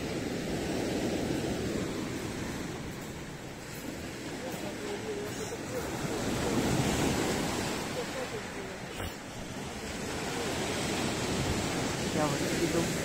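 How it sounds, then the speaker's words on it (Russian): Continuous roar of stormy surf at the city beach in Partenit, Crimea, with waves rising and falling, mixed with wind buffeting the microphone. "Послушаем шторм."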